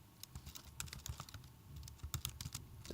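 Computer keyboard keys clatter in quick, irregular bursts of close clicks as Python code for a factorial function is typed, with no talking.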